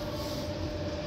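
A Hamburg subway train runs with a steady, low rumble and a faint constant tonal whine, brief and unchanging.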